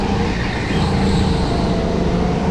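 A go-kart engine on a racing track gives a steady, dense roar with wind rush, fairly loud and close, with no clear change in pitch across the short stretch.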